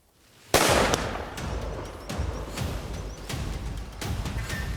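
A single sharp, loud .416 hunting rifle shot cracks out on an African hunt, followed by several seconds of rolling echo and rumble across open country.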